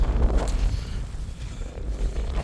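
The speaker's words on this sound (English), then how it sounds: "It's just windy and wet" Strong wind buffeting a microphone up close on a wet, windy night, heavy low rumbling gusts that swell and dip continuously.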